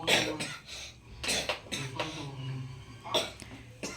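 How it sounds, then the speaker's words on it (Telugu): A child coughs several times in short bursts, close by, with brief pauses between coughs and some faint background noise. "దగ్గు వస్తుందా"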